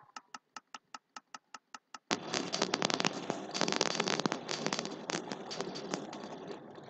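Minecraft TNT cluster bomb going off: a steady run of about a dozen sharp ticks, then a sudden loud, sustained roar of many overlapping blasts and crackling debris that slowly fades.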